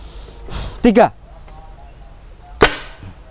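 A single sharp, loud bang from a homemade spirit-fuel firecracker (mercon spiritus) set off outdoors, preceded by brief shaking and scraping noises and followed by a quieter tail.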